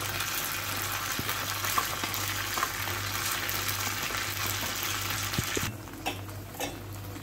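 Soaked sabudana sautéed briefly in a pan, a steady close sizzle with occasional scraping stirs and faint ticks, steady throughout, no voices.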